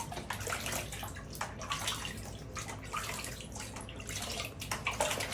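Water splashes and trickles steadily as it is scooped up by hand to moisten the face, a continuous close wet rushing with small drips.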